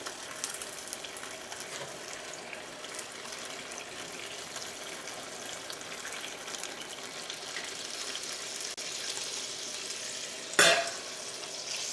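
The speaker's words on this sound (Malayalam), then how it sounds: "ഇതിലേക്ക് നമുക്ക് ചിക്കൻ സ്റ്റോക്ക് ചേർക്കാം." Chicken stock goes into a sizzling pan of chicken Manchurian gravy, giving a steady frying hiss with stirring, then a brief louder splash and surge near the end.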